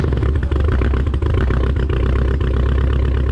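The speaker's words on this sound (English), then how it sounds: "I'm gonna go right into full throttle, nice and smooth, and you're gonna hear launch control activate" A Dodge Hellcat Redeye engine at full throttle on launch control, a loud, close, continuous deep rumble with a rapid stuttering pulse held steady, no one talking.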